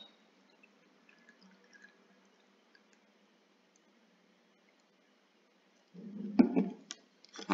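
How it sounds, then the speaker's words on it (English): Water is poured onto the loose leaves from a split tea bag: a short, close splash and gurgle bursts out after a long quiet stretch, followed by a few faint drips. "I'll pour my water in once again, the same amount."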